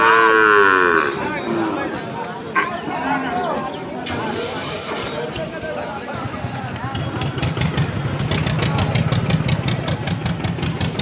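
Cattle and calves at the Sunday livestock market in Boalmari, Faridpur, Bangladesh: a loud, close moo opens, then further lowing mixes with crowd chatter and a steadily idling engine.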